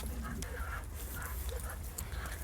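A Malinois dog during an obedience session whimpers faintly, small high whines coming and going over a steady low background hum, with no speech.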